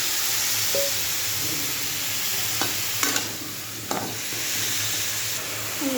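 Potatoes and green chillies frying in a pan give a steady, loud sizzle, broken by a few sharp scrapes and knocks of a spoon as they are stirred.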